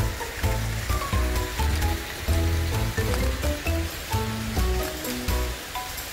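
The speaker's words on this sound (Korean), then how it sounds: "물이 흐르는 걸 볼 수 있습니다" Water rushing down the rocky gorge of Deungseon Falls on Samaksan mountain, a steady, full broadband roar with no pauses, heard close and alone.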